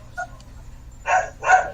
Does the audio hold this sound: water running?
no